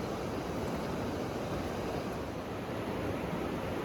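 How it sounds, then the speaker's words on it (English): Floodwater rushing along a creek at a ranch after a July flood, a steady broadband roar with no break, loud and constant, no voices over it. "water is still rushing along"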